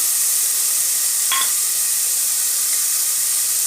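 Onion and green chili sautéing in a hot pan for dal give a constant loud, close hiss and sizzle with one brief clink partway through, and no talk.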